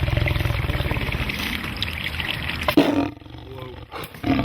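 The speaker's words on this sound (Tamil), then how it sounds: "இது ரெண்டுக்குமே பிறந்த இந்த லைகர் இப்படி ஒரு சத்தம் போடும்." A liger, a lion-tiger hybrid, roars and growls loudly at close range in a raspy, pulsing stretch, followed by a sharp break and quieter rough grunting bursts.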